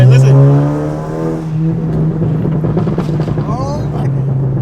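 Deep, steady exhaust drone from a catless 10th-gen Honda Civic Si, loud and close, with a rising rev partway through and some background voices and music.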